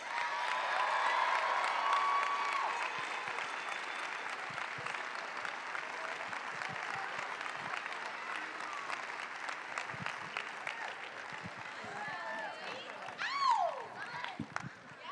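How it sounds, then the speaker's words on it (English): Audience in an arena applauding a senior gymnast at a UCLA gymnastics tribute, with steady, dense clapping and some cheering that continues throughout and swells briefly near the end, with distant voices underneath. "let's hear it for our next senior, Rechelle Dennis."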